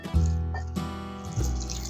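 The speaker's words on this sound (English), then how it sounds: "we're taking our 2 cups of the dates and we're pouring in 3 cups of the boiling water" Boiling water pours over two cups of dates for a Christmas date cake, a close, steady liquid trickle with a brief pause midway before the flow resumes, no talk.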